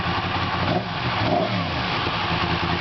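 A 2017 Yamaha FZ10 motorcycle engine revs through a modified exhaust with a bypass valve, giving a throaty, rumbling note rising and falling briefly, close by and steady, with no voices.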